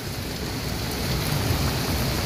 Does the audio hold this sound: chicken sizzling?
no